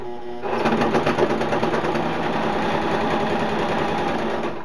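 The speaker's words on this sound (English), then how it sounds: "I'm just using a standard straight stitch" A sewing machine running a standard straight stitch on a DIY hammock ridge line organizer, starting up and humming steadily and loudly with a fast mechanical rhythm, close up and alone.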